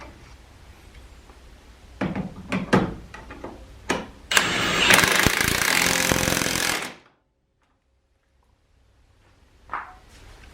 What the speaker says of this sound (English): Alright, so we're putting the bottom bolt in now.